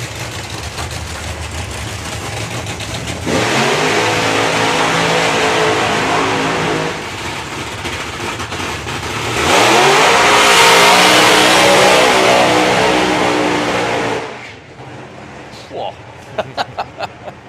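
Nitro funny cars racing side by side at a drag race event, two long roaring engine passes swelling loud and heavy, followed by a quieter stretch with sharp popping bursts near the end.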